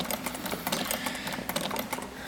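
Rapid stitching chatter from a sewing machine running steadily, close and fairly loud, with a dense mechanical rhythm of needle strokes and no talk.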